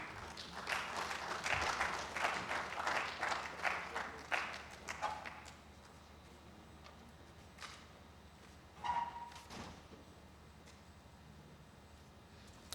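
Lecture audience applauding at a distinguished engineering lecture, a dense burst of claps for about five seconds that thins out into scattered, faint claps and a brief final flurry.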